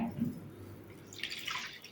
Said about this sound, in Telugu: వాష్ చేసుకున్న వాటిని ఉండే నీళ్ళన్నీ వంపేసుకోండి